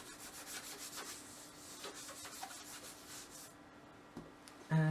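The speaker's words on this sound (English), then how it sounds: "using the embossing buddy, I'm just going to prepare that so nothing else sticks" An embossing buddy rubs back and forth over card before heat embossing, making soft, rapid, faint brushing strokes up close. A louder knock comes at the end.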